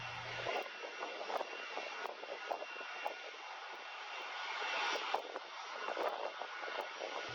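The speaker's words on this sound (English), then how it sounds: "the 747 has a long taxi to the gate" A British Airways Boeing 747 taxis to the gate after landing in Phoenix, its jet engines giving a steady, broad roar heard from inside the cabin, with faint clicks and rattles over the continuous drone.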